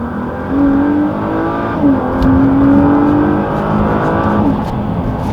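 A Nissan GT-R engine pulls hard and climbs in pitch, a smooth rising drone heard from inside the cabin, steady and loud.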